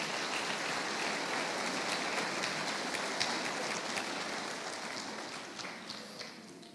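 A church congregation claps steadily for several seconds, a dense, even wash of applause that sounds almost like rain and tapers slightly toward the end.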